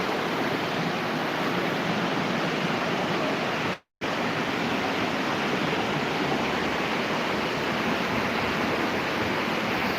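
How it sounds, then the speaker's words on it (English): Flowing water rushes outdoors on a walk in Germany, a steady, full hiss with no voices and a brief dropout partway through. "it might be a bit louder here because of the water."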